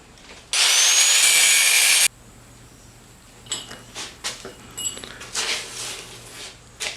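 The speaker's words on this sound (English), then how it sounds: "After cutting them off with a cutoff wheel," A cutoff wheel slicing off metal pieces while building a movable welding vise, one loud, shrill cut lasting under two seconds, followed by several shorter, fainter grinding bursts.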